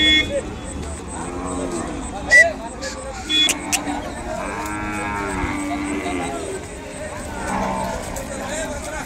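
Ongole cattle and calves moo at a livestock market, several calls rising over a steady bustle of voices and passing vehicles, with people talking nearby throughout.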